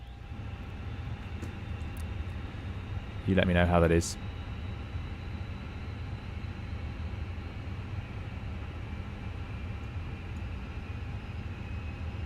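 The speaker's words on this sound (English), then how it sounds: "And now you'll hear all the fans." Airbus A320 cooling fans in the Fenix A320 for MSFS hum as a steady broadband whir throughout, with a brief spoken line partway through.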